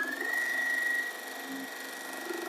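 Sewing machine stitching pieces of fabric together for a foundation paper pieced zipper pouch, a continuous whirring run with a steady high whine and a slight drop in pace partway through.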